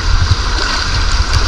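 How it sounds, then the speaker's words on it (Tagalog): Big ocean waves at high tide at night along a rocky shore, continuous loud splashing and churning water close by, with a voice briefly heard under it. "High tide tapos malaking alon."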